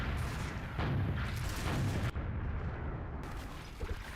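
A shotgun fires in Minecraft, heavy booming bursts packed close together for a few seconds, loud and full-bodied, with no talking.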